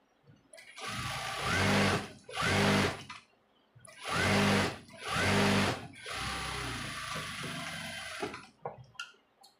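A sewing machine stitches a blouse lining in several loud bursts of rapid whirring mechanical running, separated by short pauses, close by with no talk.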